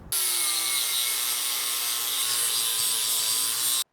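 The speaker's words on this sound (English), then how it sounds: "You can see we just grind on the outside like that." A power grinder cuts around the outline of a blow-off valve block-off plate for a turbo setup, a loud, steady, high-pitched grinding whine that starts abruptly and stops cleanly after almost four seconds.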